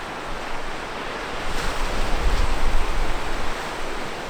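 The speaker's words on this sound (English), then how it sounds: "There's a really good wave." Ocean waves break and wash steadily at a warm, clear-water surf spot, a broad continuous roar that swells slightly in the middle, mixed with wind buffeting the microphone.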